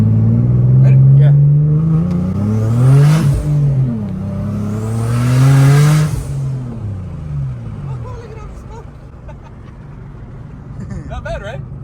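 A boosted Nissan 370Z on a test drive revs hard twice in rising, roaring pulls, then settles to a lower steady engine drone, loud and close inside the car with people talking over it.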